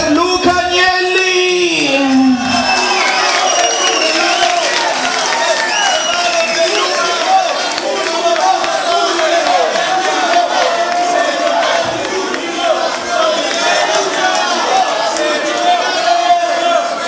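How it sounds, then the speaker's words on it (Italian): Packed club crowd at Bolgia during a Christmas event with DJ Luca Agnelli, roaring, whistling and applauding continuously in a loud, sustained wall of cheering, with an amplified voice briefly heard at the start. "Signori, l'applauso del Bolgia per Luca Agnelli!"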